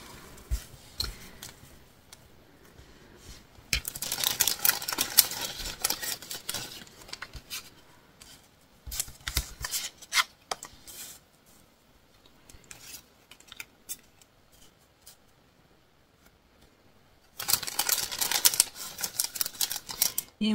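Scissors snip through scrapbooking paper scraps up close, in three short bursts of crisp cutting separated by quieter handling noise.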